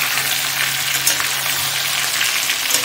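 Mango pieces fry loudly in hot oil for a mango oil pickle, a dense, continuous close-up sizzle with soft stirring movement underneath.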